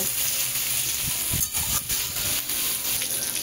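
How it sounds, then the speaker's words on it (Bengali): Potato and pointed gourd pieces fry in oil, giving a loud, unbroken broadband hiss with soft low bumps from the pan. No one speaks. "এইবার এই তেলের মধ্যে একটু ভাজা ভাজা করব"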